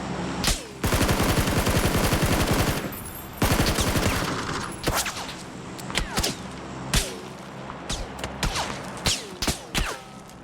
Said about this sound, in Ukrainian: В спину стріляють, спереду стріляють.